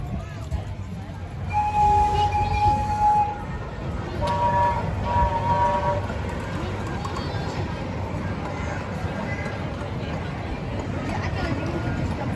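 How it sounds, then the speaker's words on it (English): A long train rolls past with a steady rumble at Santa's Village, New Hampshire, while a horn toots a few times early on; voices talk over the passing noise. "Oh, it's a long train."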